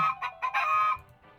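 A chicken in the video game Minecraft gives a short run of loud, close clucks and a drawn-out squawk, then fades quickly, with no talking.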